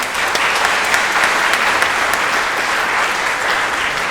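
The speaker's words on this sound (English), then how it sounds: "So a big round of applause please for our guests today." Dense, steady applause from a panel audience greeting the guests, loud and continuous throughout with no talk over it.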